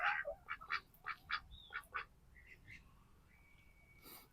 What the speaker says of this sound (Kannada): ಇಲ್ಲಿ ನೋಡ್ತಿದ್ರಿ ಡಕ್ ಸಾಕ್ಯಾರ ಇವ್ರೆ